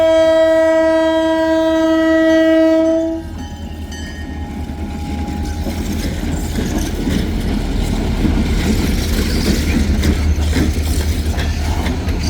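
A train horn blasts loudly for about three seconds, then the heavy rumble and clatter of rail cars rolling steadily past up close.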